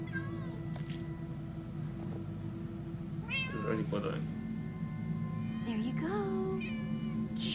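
Cats meow repeatedly in the Minecraft Story Mode game over steady music, with several rising calls clustered toward the end, while a voice speaks briefly.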